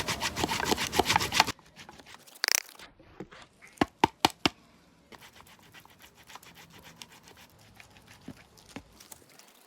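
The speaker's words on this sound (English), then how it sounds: "Now I'm going to be grating these two soaps into the black soap." Bar soap grated into black soap, with bursts of dry scraping rasps, a few sharp isolated scrapes, then a longer run of quick rhythmic grating strokes, close and moderately loud with no speech.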